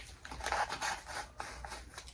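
Scissors snip around the Endor seam of a Micro Galaxy Squadron display turntable model build, a quick run of close, crisp cuts and rubbing paper sounds with no talk.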